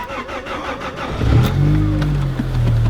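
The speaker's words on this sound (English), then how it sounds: "Should let my car warm up." A car engine idles roughly, then catches and settles into a steady low rumble, close by.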